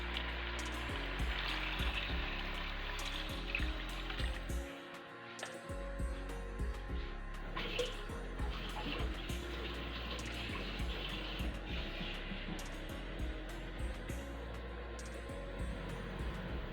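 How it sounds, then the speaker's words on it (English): Water pours steadily from a tap into a pot for Guyanese chicken soup with carrots, celery and cassava, a continuous close rushing hiss with a few small clunks. "So I'm gonna fill up the pot now with my water."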